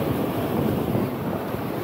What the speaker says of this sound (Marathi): लाटा बघा लाटा समुद्र खवळलेला आहे.